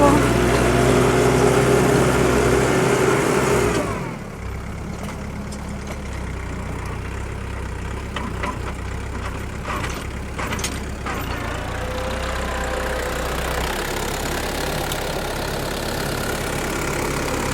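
A DTZ 5404 tractor ploughing heavy clay soil with a two-furrow plough: loud, steady engine drone close by that drops to a lower, labouring rumble after a few seconds and continues evenly, with a voice speaking briefly.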